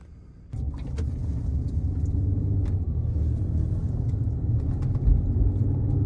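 Pickup truck shuddering from a failing torque converter while driving, a heavy low rumble and vibration holding steady for several seconds after a sudden onset, with faint outdoor chirps above.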